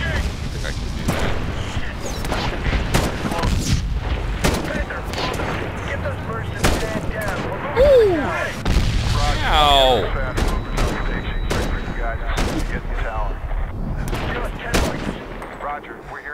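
Rapid, loud gunfire from Medal of Honor (2010) during the Breaking Bagram mission: dense bursts of automatic shots and impacts roll on without pause, with voices and game dialogue talking over the shooting.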